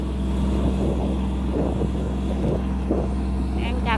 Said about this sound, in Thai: หัวเรือลากจูงลำนี้